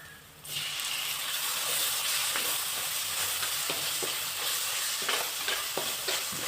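Chopped tomatoes tipped into onions frying in a pan for a Kerala-style mackerel curry, a loud sudden sizzle that holds steady with repeated stirring scrapes and clicks of the spoon, no talking.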